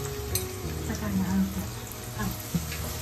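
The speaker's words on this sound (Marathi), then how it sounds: "चांगला तेलामध्ये ते फ्राय करायला ठेवते" Asafoetida fries in hot oil in a pan, making a continuous close sizzle under a voice speaking Marathi.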